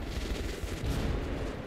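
Grenades blowing up in the video game Metro Last Light Redux, a dense, continuous roar of blasts and rumbling debris filling the whole stretch, loud and unbroken with no voices.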